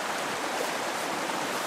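Fast water rushes through a creek in the Northwest Territories, a steady broadband wash filling the clip with no pauses and no voices, close and moderately loud.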